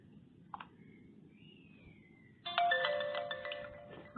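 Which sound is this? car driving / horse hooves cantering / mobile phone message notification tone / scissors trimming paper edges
mobile phone message notification tone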